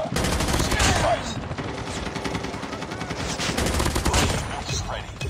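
Dense automatic gunfire in a shooter video game with a helicopter, sustained loud bursts of machine-gun fire filling the whole span, with voices underneath.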